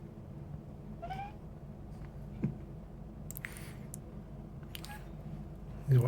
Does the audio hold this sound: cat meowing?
yes